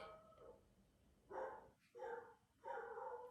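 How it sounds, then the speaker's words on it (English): Several dogs bark in quick bursts at moderate distance, three or four loud barks separated by brief pauses, heard against a quiet indoor room tone. "Now we have lots of dogs."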